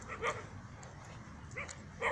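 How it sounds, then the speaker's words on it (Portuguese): Several dogs bark in short bursts at the start and end, moderately close, over a low background rumble. "Tem bastante cachorro aqui hoje latindo."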